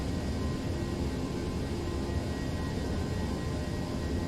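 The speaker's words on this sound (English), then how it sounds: "the airplane is just going to continue its climb to our cruising flight level" Airliner cabin roar of a Toliss A321 climbing toward cruise altitude in the X-Plane 11 flight simulator, a steady dense low rumble with broadband hiss, constant and unbroken throughout.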